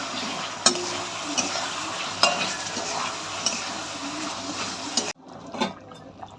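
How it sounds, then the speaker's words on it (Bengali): Fish frying in a hot wok on a gas stove, a steady bubbling oil sizzle with faint stirring clicks, until the sound cuts off suddenly near the end. "মাছটা ভাজবো।"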